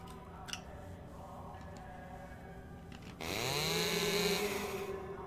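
A chainsaw abruptly revs up midway in the horror video game Death Mark, a sustained buzzing roar with rising pitch sweeps that holds steady and fairly faint after a stretch of quiet ticking ambience.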